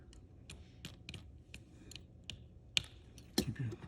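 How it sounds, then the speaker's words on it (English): Scissors snipping CAT6 cable wires flat, a series of sharp, close clicks, roughly every half second, with a couple of louder snaps near the end. "Take the scissors, and we're going to cut off a nice flat ribbon across the top there."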